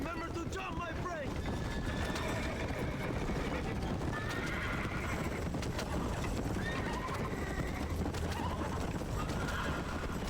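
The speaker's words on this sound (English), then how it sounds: "It is not my fault that the horses did not go straight." Horses in the Western game Red Dead Redemption whinny over a constant clip-clop of hooves at a gallop, loud and steady throughout, with speech mixed in.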